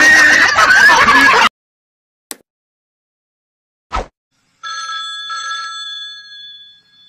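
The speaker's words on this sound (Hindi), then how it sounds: "चल तो फिर फोन जल्दी उठा फोन देख किसका" A telephone rings with a repeated electronic bell tone in two bursts after a short stretch of speech and a couple of brief knocks.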